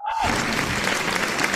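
Audience applause at a motivational success seminar, a dense, steady wash of clapping that starts abruptly and holds at a constant level throughout.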